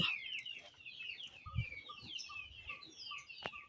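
Soft pigeon calls repeat in a quick series over a quiet background, with a few faint thumps; a small flock of pigeons nearby while grain is scattered for them.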